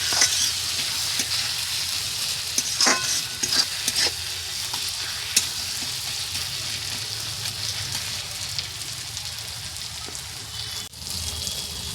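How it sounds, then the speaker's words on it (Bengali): Spice masala for a country chicken curry sizzles and fries in a pan as it is stirred, a dense continuous hiss with occasional scraping clicks, loud and close, with no talking. "এবার মশলাটাকে ভালো করে কষে নিতে হবে।"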